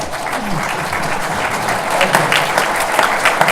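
A crowd at a Phoenix Comicon panel on the science of Jaws breaks into lively applause, a full, sustained clapping that swells slightly toward the end.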